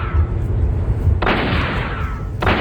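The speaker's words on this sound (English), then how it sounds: "Doing so plays an epic gunshot sound" A gunshot sound effect plays as the alarm sound of a PSP handheld console, with two sharp, loud blasts, each followed by a short decaying rumble, and no speech over them.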